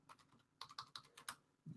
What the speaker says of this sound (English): Hear the typing for the Theater of the Mind. It's for effect